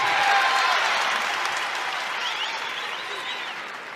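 Arena crowd applauding at a Big 12 Championship wrestling match, broad steady clapping that slowly fades, with faint voices underneath.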